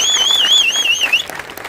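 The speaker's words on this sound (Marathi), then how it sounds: "जोरदार टाळ्या वाजवून सरांचं स्वागत करूया आपण" Loud applause greets a guest visiting a Govinda troupe's practice session, with a steady wash of clapping under a shrill, wavering whistle that cuts off midway before the clapping thins out.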